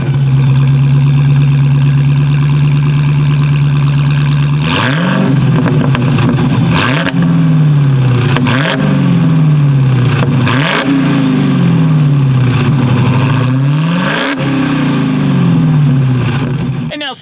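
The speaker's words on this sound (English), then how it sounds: "So as always, here is that exhaust clip" A 2016 Dodge Challenger SRT Hellcat idles loud and steady through its dual exhaust, then revs hard several times in a rhythmic series of sharp climbs and falls, close and powerful.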